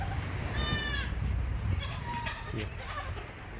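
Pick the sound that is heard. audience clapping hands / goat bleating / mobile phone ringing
goat bleating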